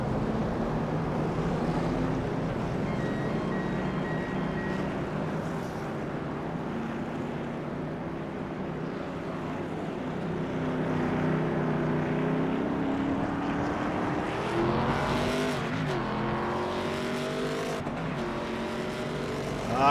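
Race cars in an SRX race roar past on a track, engines droning loudly with pitch sweeps as they pass close by, one after another.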